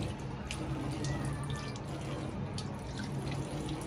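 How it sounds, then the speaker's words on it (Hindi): Tap water running while a base is being washed, a steady soft stream of splashing and dripping with scattered droplet ticks throughout, fairly quiet and close, with no talking. "वॉश कर रही है पानी से, देखे धो रही है"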